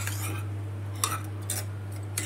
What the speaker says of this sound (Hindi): दही डाल देते हैं और मिक्स कर देते हैं इसको भी